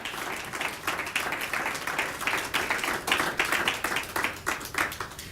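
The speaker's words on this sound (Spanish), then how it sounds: "Dele un aplauso al Señor" A church congregation claps together in a quick, fairly even rhythm, many hands sounding at once at a moderate distance, with little talk beneath.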